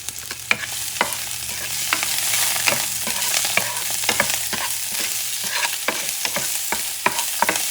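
Minced garlic fries in a tomato-based sofrito for fish stew, a steady close sizzle broken by sharp scraping stirs of a utensil against the pan at irregular intervals.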